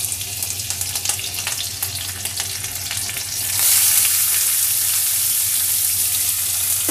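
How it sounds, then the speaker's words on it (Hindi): Chopped chilli, cabbage, carrot, capsicum and onion frying in hot oil for a street-style egg roll, a loud continuous sizzle that swells and brightens midway as more hiss rises from the pan, with no voices. "इसको ज़्यादा हम नहीं भुनेंगे, हल्का हल्का भुनाएगा।"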